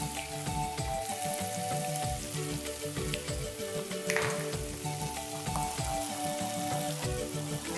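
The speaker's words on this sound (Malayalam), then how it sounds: "ഓയിൽ കുറവുണ്ടെങ്കിൽ ഒന്ന് ചേർക്കാം മുട്ട പൊരിക്കാനായിട്ട്." Eggs frying in oil beside chopped vegetables in a pan, cooking for restaurant-style chicken noodles; a steady, dense sizzle runs throughout with occasional stirring scrapes, close and continuous with no talk.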